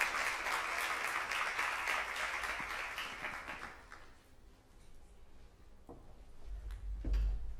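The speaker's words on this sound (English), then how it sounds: "let's give a round of applause for our panelists today" A conference audience claps in steady applause for a panel that gradually fades away, followed by a few scattered thumps and knocks.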